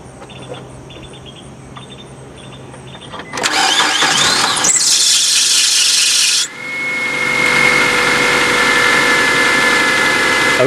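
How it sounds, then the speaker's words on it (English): A Mazda 626 engine starts and idles smoothly while a loose drive belt squeals, a loud steady whine with a brief dip partway, following quieter clicking and rubbing beforehand. "as you can hear, the belt needs tightened, the pulley or whatever, but it's a smooth running engine"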